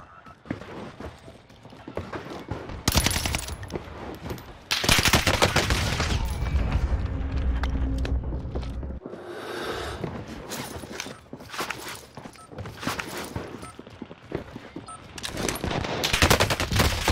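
Bursts of loud automatic gunfire on Rebirth Island in Call of Duty Vanguard Warzone, heavy rapid volleys with pauses between them, mixed with footsteps and scattered single shots, close and punchy.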